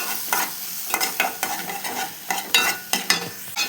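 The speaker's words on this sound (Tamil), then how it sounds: "நல்லா கிளறி விடணும்." A spatula scrapes and turns macaroni with egg, sliced green chili and onion around a hot pan, a steady run of close stirring strokes over continuous sizzling, with no talking.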